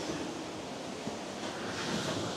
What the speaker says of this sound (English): It is a waterfall.